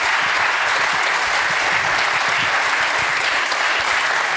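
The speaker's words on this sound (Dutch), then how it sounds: "dat applaus komt jullie enorm toe" Studio audience at a Dutch television interview show applauding steadily, a dense, even wash of clapping that holds at a constant level throughout.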